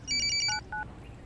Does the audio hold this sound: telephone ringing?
yes